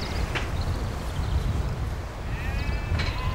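Sheep bleat in a few short wavering calls over a steady outdoor rumble at an agricultural show, one near the start and another toward the end.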